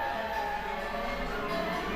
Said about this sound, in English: Kids with cochlear implants can hear as well as us in some cases, but differently than we do.